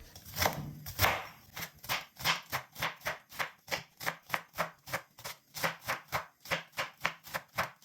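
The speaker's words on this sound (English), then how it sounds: "I'll go ahead and cut my okra." A knife slices okra against a cutting board in quick, evenly spaced chops, around twenty crisp strikes, close and clear with no talking.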